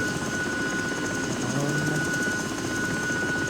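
Steady droning whine and rotor hum of a Mil Mi-2 helicopter engine in X-Plane 11, constant and moderately loud throughout with a high tonal whine over a broadband rumble, no voices.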